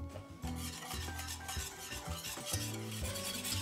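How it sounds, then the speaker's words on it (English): Golden syrup, brown sugar and cocoa powder melt together in a pan over medium-high heat with continuous stirring scrapes and a soft sizzle, close and without talk, over a steady background hum. "we're going to get this all melting together on medium-high heat"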